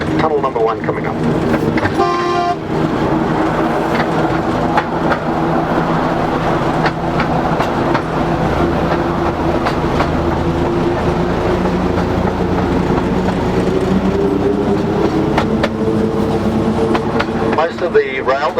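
A narrow gauge train on the Driving Creek railway rolls steadily along its rails, a continuous close rumble and rattle with faint clicks, while a voice talks over it throughout.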